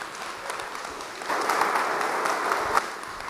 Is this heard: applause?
yes